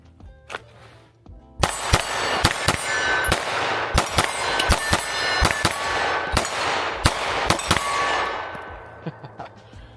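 Sharp pistol shots from a Ruger RXM or Springfield Echelon Compact ring out at a range, about a dozen loud cracks in uneven quick bursts with clanging ring-off between them.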